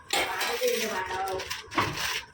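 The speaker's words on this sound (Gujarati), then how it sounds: "મમ્મી ડીશ બધું કાઢે છે" Dishes and plates clatter and clink as they are handled, a few quick metallic knocks close by.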